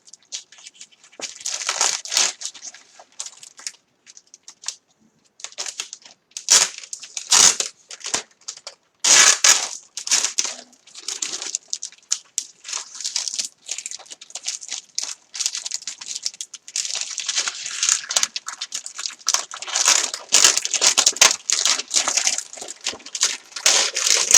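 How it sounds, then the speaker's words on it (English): Cellophane wrapping on a Chalk Couture craft item crinkles and crackles as the item is pulled free, a loud, close run of irregular rustles and crumpling bursts that goes on throughout with no voices. "Looks like the hardest part's getting it out of the cellophane."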